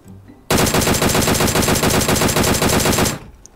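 Sustained machine gun fire in the PUBG Mobile zombie mode, a loud, dense burst of rapid shots lasting about three seconds, then cutting off abruptly.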